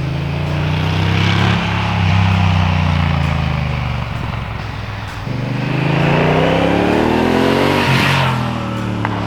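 Honda CRF1000L Africa Twin, a 1000 cc twin-cylinder adventure motorcycle, revs and accelerates loudly and close by, its engine note rising through two climbing sweeps with a brief dip between them and no talk.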